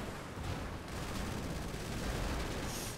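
Gunfire from a car in a video game: a dense, continuous burst of rapid shots with a rumbling, crackling texture, loud and close throughout, with no talking.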